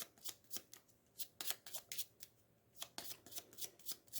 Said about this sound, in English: I'm going to shuffle my event deck.